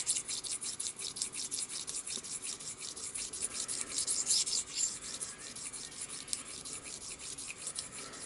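Metal rubbed with an abrasive to take off a burr, a quiet, continuous rasping scrape in repeated back-and-forth strokes, close to the microphone and heard alone.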